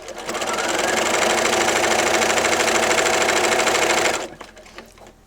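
A sewing machine back stitching through a baby quilt's binding, a fast steady whirring run for about four seconds that stops abruptly, leaving a few faint handling clicks.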